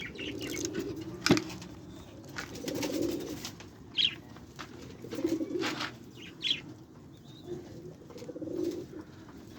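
Pet Australian budgerigars and lovebirds in a cage, giving soft, repeated low cooing calls with occasional sharp chirps and brief wing flutters, close by and moderately quiet, with no talking.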